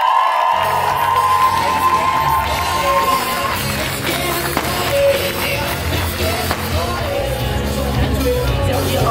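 Crowd at a high school graduation sash ceremony in Třebíč cheering and clapping loudly throughout, with whoops and shouts layered over a steady roar of applause.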